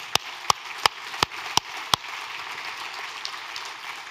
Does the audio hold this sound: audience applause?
yes